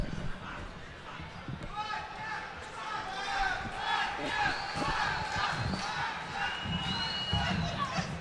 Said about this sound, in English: Definitely the crowd supporting on Dudieva here